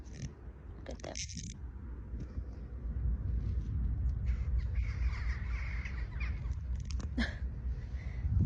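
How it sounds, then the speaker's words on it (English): Crows caw outdoors in several harsh, repeated calls, some near and some farther off, over a steady background of outdoor noise. "Oh, the crows."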